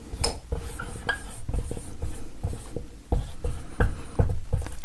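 Pen or marker strokes on a writing surface while an Arabic word is written out by hand, a series of short scratchy scrapes and taps in irregular bursts, fairly close, no speech.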